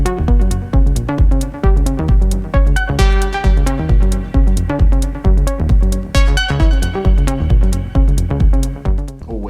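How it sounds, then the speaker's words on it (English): Atlantis synthesizer bassline sequenced by an Oxi One, a loud, punchy repeating bass pattern with evenly spaced notes pulsing in a steady groove, rich in harmonics and playing alone without any talking. "Always very enjoyable, that Atlantis tone."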